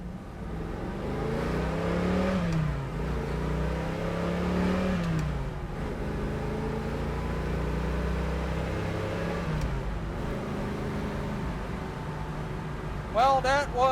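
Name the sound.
1969 Chevrolet Camaro Z28 style accelerating through the gears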